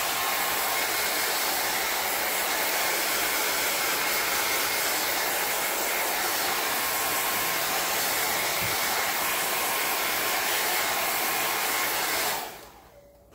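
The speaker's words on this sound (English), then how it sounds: "Maybe I should run the hair dryer on it real quick." A hair dryer blows continuously at close range, a loud, even rushing hiss that cuts off abruptly at the end.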